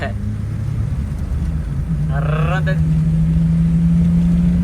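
A Rebel motorcycle with a loud aftermarket exhaust gives a loud, steady engine rumble that runs through the whole stretch, while someone talks over it.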